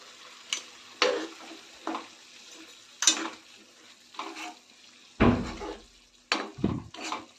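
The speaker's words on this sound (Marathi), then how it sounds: "आता ह्यामध्ये आपण भाज्या वाफून घेतलेल्या आहेत त्या सर्व भाज्या यामध्ये घालते" Steamed mixed vegetables go into hot oil in a pan for a veg kurma and are stirred. Sparse, distinct scrapes and clatters of a spoon against the pan sound over quiet gaps.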